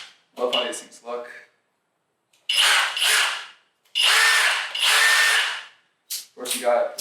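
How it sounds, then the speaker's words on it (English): A new Kobalt XTR cordless hammer drill is revved in several bursts of high-pitched whirring, short blips first and then longer runs, close up with pauses of silence between them. "next, the hammer drill."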